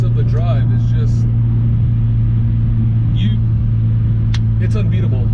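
Tuned Mitsubishi Evo IX engine droning steadily and loud while driving, a constant low rumble throughout with brief faint sounds above it.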